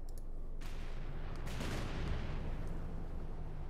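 An artillery barrage in Company of Heroes 2 rumbles as low, distant booms and scattered shots over steady battlefield noise, with one swelling impact in the middle.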